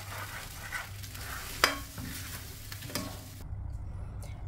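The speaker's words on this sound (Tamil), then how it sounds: "இந்த பேஸ்ட்டு சேர்த்து ஒரு 2 மினிட்ஸ் இதை நல்லா வதக்கணும்." Ground paste for mor kuzhambu fries and sizzles softly in a pan, with occasional stirring scrapes and light clinks.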